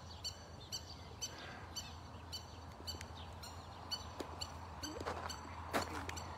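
A small bird calling near its hidden chicks in the Galilee outdoors, a steady series of sharp, high chirps repeating about every half second, fairly close, with faint rustling and distant ambient noise beneath.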